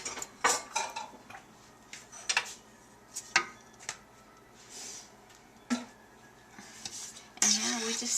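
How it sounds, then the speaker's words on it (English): A spoon stirs a cream candy mixture of sugar, salt, soda and water in a pot, giving a run of irregular metallic clinks and scrapes, some sharp and close, spread across the stretch. "And now we just stir it for a while."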